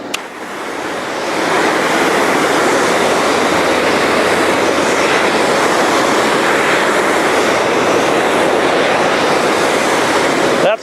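A cold water jetter sprays water in a steady, loud rushing hiss that builds over the first second and then holds constant, close and alone.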